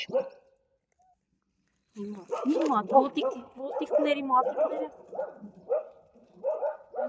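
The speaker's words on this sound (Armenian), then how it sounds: "մարդկանց անգամ մոտ չեն գնում, պարզապես հաչում են" Dogs guarding their puppies bark at passers-by, sharp yips and barks close by, mixed in with a person talking over much of the stretch.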